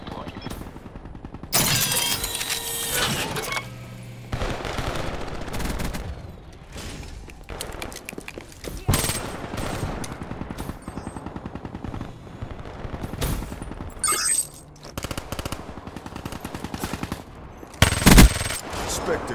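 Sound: M8A7 rifle with suppressor firing, Black Ops 3 video game

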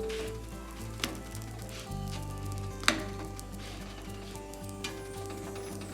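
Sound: rice pathiri (rice roti) cooking on a pan

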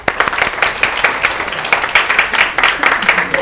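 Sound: applause, clapping

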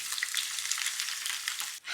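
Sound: onion frying in oil in pan

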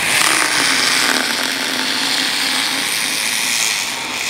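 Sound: dental drill beveling a sharp tooth edge

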